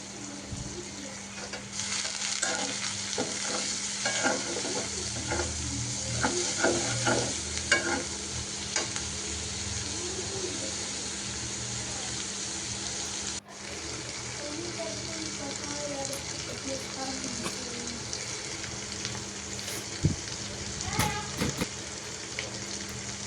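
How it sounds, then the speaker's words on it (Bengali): Carrots and peas frying together in a pan, continuous close sizzling with repeated stirring and scraping, occasional talk in the background. "এখন গাজর আর মটরশুঁটিও দিয়ে দিবে, একসাথে ভেজে নিবে"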